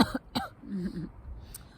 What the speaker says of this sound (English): I have a cough.